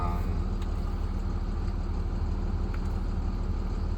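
A box truck engine held at raised revs to build air brake pressure, a steady, loud, low rumbling drone with no pauses.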